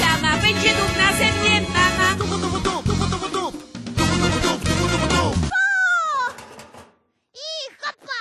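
A voice imitates a cat in a puppet theatre performance of Little Red Riding Hood, meowing several times in rising and falling cries, first over loud music, then alone with short pauses between.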